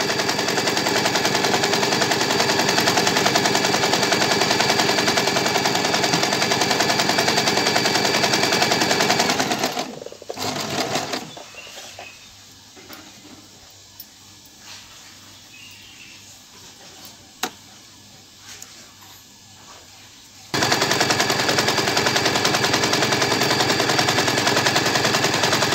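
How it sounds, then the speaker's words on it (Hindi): A sewing machine stitches elastic onto bloomer pants in a long, loud, fast continuous run, falls quiet for about ten seconds with small handling sounds, then starts up again at full speed. "अब हम उसको यहाँ से सिलाई मारेंगे"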